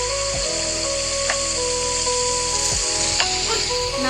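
Food sizzles steadily in a cooking mukbang video game, a loud continuous frying hiss with a few soft clicks and tones from the game, and no talking.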